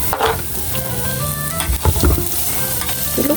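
Garlic and onion fry loudly in a pan, with a dense continuous sizzle and the scrape and clatter of a utensil stirring them close up.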